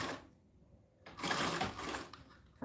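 A home sewing machine stitches a quarter-inch seam, a quick run of mechanical whirring that starts after a short pause and continues steadily, close and moderately quiet, with no talk.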